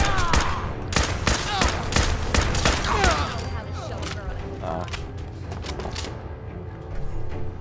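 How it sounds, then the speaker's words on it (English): An alien gun fires in Fallout 4 in a fast volley of sharp, crackling shots over the first few seconds, followed by scattered further blasts and mechanical clatter, loud and close. "Using an alien gun."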